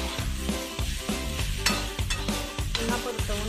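Green tomato chutney with chilli powder sautéed in a pan, a steady close sizzle with rhythmic scraping strokes of a spatula stirring throughout, no voices.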